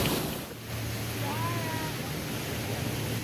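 Surf at Laguna Beach washes in a broad, steady roar with wind buffeting the microphone, close and continuous with a slight dip early on.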